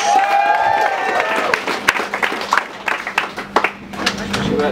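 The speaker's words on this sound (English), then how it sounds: "keep that applause going for your final act of the night" At a freshers comedy gig, the audience applauds as comedian Oliver French comes on, with a whistle at first and then a mix of clapping and cheering that slowly thins into scattered claps.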